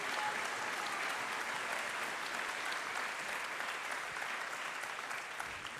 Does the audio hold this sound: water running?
no